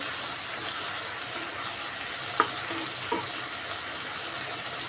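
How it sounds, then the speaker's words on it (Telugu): Steady sizzle of cluster beans frying in a pan over medium flame, with a couple of sharp spoon clinks against the metal as they are stirred. "ఇది మీడియం ఫ్లేమ్లో కలుపుతూ ఉండాలండి"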